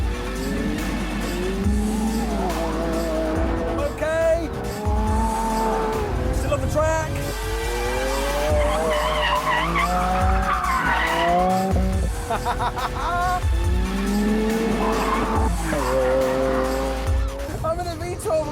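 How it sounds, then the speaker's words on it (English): A V12 Lamborghini Aventador is thrown hard into a corner at speed, its engine howling loud and close through rising and falling revs while the tires squeal and skid beneath it. "I'm in a V12 Lambo. I just threw it at a corner at insane speed and it went round."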